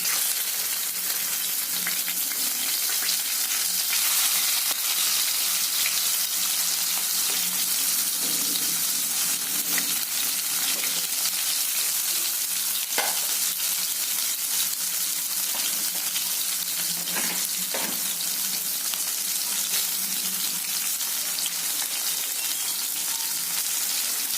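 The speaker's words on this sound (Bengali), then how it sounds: "এগুলো আমার একবার করে ভাজা হয়ে গেছে, আবার এইবার দ্বিতীয়বার করে আবার ভাজবো।" Aamudi fish frying a second time in hot oil in a home kitchen, giving a steady, close, dense sizzle with brief louder crackles and no talking.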